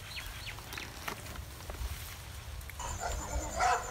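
A dog barks outdoors in wooded country, a few moderately faint barks set against steady background noise.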